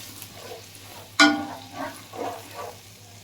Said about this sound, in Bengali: জিরেটা দিয়ে একটু নাড়াচাড়া করে নেব।